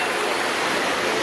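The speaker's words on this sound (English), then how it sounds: "a fountain, you can hear it bubbling behind me" Fountain water bubbling and splashing in an old town plaza in Guadalajara, Mexico, a steady, dense rushing wash that is close and fairly loud, continuous with no pauses and no voices over it.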